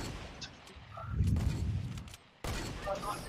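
Bursts of rapid gunfire crackle and boom in quick succession, with explosive rumbles and brief drops, over a busy game soundscape.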